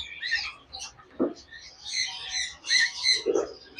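Parrots calling at a bird market, a large Senegal parrot breeder pair among caged birds, giving sharp high chirps and squawks throughout with a couple of lower harsh calls, fairly close.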